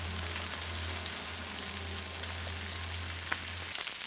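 Brussels sprouts searing in a hot pan at medium heat give a steady, close sizzle that fries on without a break for the whole stretch, with no talking over it.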